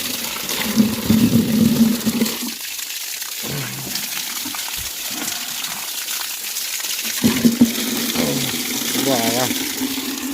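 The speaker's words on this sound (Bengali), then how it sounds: "এই জল ভর্তি হচ্ছে বালতি করে বালতি" Water gushes from a tap into a large bucket, a steady rushing pour that swells and fades as the bucket fills, with a person speaking over it at times.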